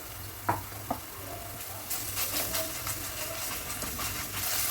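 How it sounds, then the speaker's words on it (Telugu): Ginger garlic paste frying with onions in a pan, a steady soft sizzle with a couple of sharp utensil knocks early on, the hiss swelling slightly toward the end, close and alone without talk. "అల్లం వెల్లిపాయ పచ్చివాసన పోయే వరకు ఫ్రై చేసుకోవాలి"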